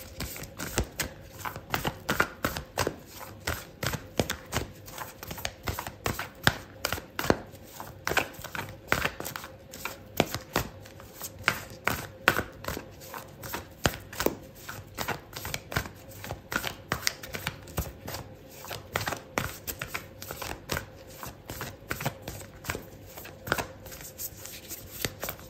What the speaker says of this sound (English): Okay, so I'm going to pull out an oracle card for you,